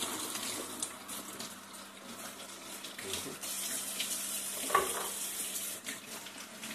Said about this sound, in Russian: промою под проточной водой